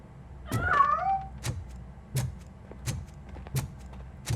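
A cat meows once in the video game Robocop Rogue City, a clear close meow followed by a few sharp clicks and soft thuds.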